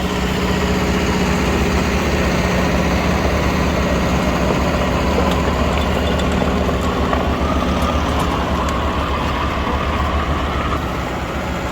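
A tractor engine runs steadily in low-range second gear with both levers down, a loud, continuous heavy drone with rumbling mechanical clatter and no pauses.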